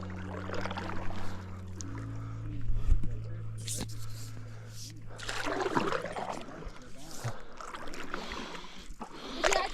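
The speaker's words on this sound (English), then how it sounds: "going to try out her new Kokopelli pack raft that we got at Expo Pacific Northwest" A Kokopelli pack raft being paddled on water, with soft intermittent splashes and paddle strokes close by, mixed with quiet speech and gentle water movement.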